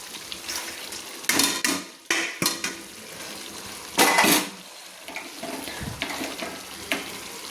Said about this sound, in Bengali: দিয়ে আমি ভালো করে বাঁধাকপিটাকে নেড়ে নিচ্ছি।